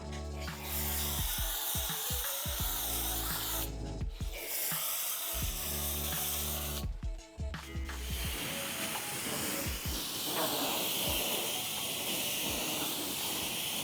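Multi-Star N cleaner is sprayed onto grimy car wheels in loud, hissing bursts broken by short pauses, followed by rougher, scrubbing-like hiss and rubbing toward the end.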